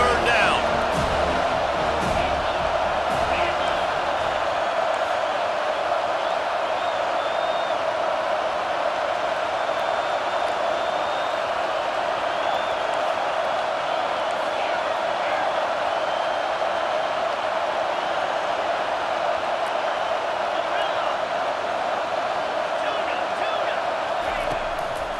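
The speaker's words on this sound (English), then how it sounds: "Decibels rising as the crowd gets behind this defense on third down." Football stadium crowd roaring steadily for the defense on third down, a dense, loud, sustained wall of voices that holds without pause throughout.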